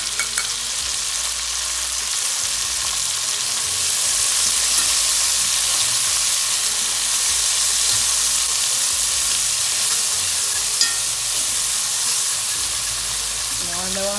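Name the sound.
vegetables frying in pan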